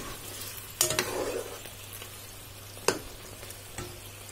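Dark sauce for sweet and sour fish being stirred in a frying pan, with a steady close sizzle and a few sharp scraping clinks from the utensil against the pan.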